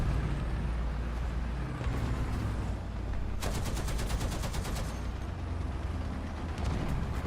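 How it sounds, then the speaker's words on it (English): An anti-tank weapon firing in a video game, a loud blast followed by a rapid rattling burst over a dense, constant rumble of battle noise. "Let's see how much I can do with the anti-tank here."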